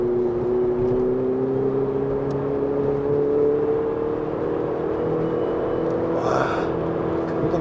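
A Ferrari 488 GTB in race mode accelerates on the Inje circuit, its loud engine note rising steadily in pitch with a constant whirring roar and no talk over it.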